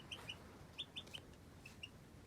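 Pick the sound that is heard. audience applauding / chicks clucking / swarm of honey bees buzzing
chicks clucking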